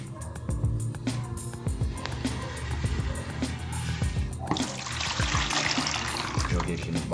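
Water pours into a bucket for mixing plaster, a steady splashing trickle that grows into a fuller rushing pour after a few seconds, close by.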